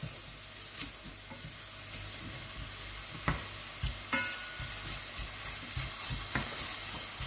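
Onions frying in a hot pan for Chinese shrimp noodles, a steady sizzle broken by several sharp scraping stirs and small spatters, fairly close and without any voices.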